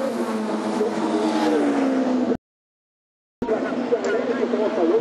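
WTCC touring race cars at Imola, including a Chevrolet and a Honda Accord, scream past with rising and falling engine whines, cut by a second of dead silence before the racing noise resumes under commentary.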